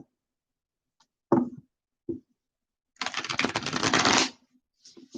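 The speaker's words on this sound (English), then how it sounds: "Just a couple more shuffles here for Aries." Tarot cards being shuffled close and quietly, with a couple of short snaps followed by a longer riffling burst of shuffling.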